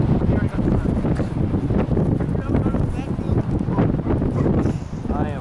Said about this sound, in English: wind, the wind. They're all blowing around.